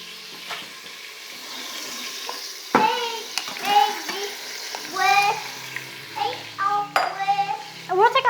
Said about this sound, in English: So the next thing we're gonna do is go ahead and put the meat in there.